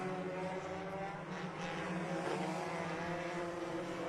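Race cars roar together down the backstretch of an oval track during a memorial feature race, a dense, continuous engine drone heard from a distance with no talk over it.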